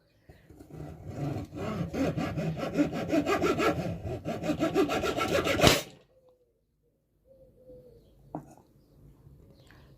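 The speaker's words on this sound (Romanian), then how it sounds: "am găurit și această nucă de cocos" Rough, rhythmic rasping of a tool drilling into a hard coconut shell for several seconds, then it stops abruptly, leaving quiet with a small knock.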